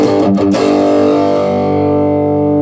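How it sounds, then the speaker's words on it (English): Electric guitar played through a distortion pedal: one loud, buzzing, heavily distorted chord rings out and slowly sustains, with a brief choppy stutter near its start. "Now the distortion pedal here"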